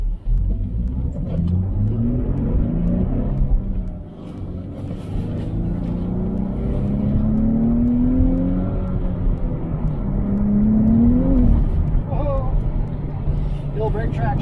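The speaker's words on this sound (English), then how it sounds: "let's get some first-hand driving impressions of the 2023 Nissan Z" A 2023 Nissan Z with a twin-turbo V6 and six-speed manual drives along, its engine rumbling steadily from inside the car and rising and falling through several rev sweeps over about fifteen seconds.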